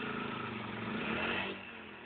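An ADLY 300 engine revs on the throttle close by. A droning, humming tone rises briefly, then eases back to a lower, steadier note.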